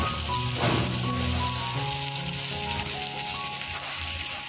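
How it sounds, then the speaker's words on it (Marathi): Stuffed pomfret fish frying in a pan, a steady close hiss and sizzle of oil running continuously, with faint kitchen tones and clatter underneath. "फ्राय करून घ्यायचं."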